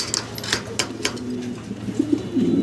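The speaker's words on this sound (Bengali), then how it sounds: "আমরা এক জোড়া জ্যাকোবিন দেখতেছি এখানে ব্ল্যাক কালারের ভিতরে" A pair of black Jacobin pigeons coo softly at a pigeon seller's stall, low rolling coos rising toward the end amid faint background chatter and clatter.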